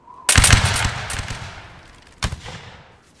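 Musket volleys ring out in a Napoleonic line battle: one loud, sharp crashing volley with a ragged rolling tail, then a second, shorter volley near the end.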